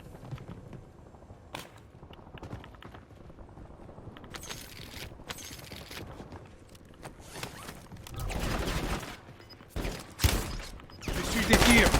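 Gunfire in a battle-royale shooter video game, a run of sharp shots and bursts growing louder and denser toward the end, mixed with game effects and a voice talking over it.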